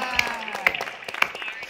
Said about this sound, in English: Can we give another round of applause for Roger?